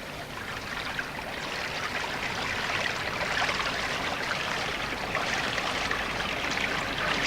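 Flowing water from a stream near a Derbyshire village, a dense continuous rushing wash that stays steady and fairly loud throughout, with no voices.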